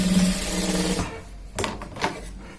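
Sewing machine stitching the seat seam of a pair of trousers, a steady close whir for about a second, then brief softer bursts of machine noise after a pause.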